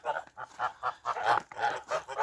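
Geese honk over and over while eating feed on a farm. The short nasal calls come in quick succession and overlap, close and fairly loud.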